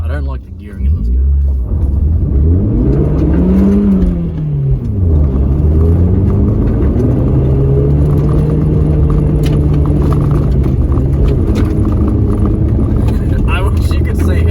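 A car engine drones and revs while the car skids sideways on a family farm, its pitch rising and falling steadily and loud throughout, with a voice talking over it.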